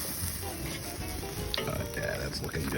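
Chicken thighs sizzle and crackle steadily in a smoker after being flipped, a dense close frying hiss with small pops throughout and no talk.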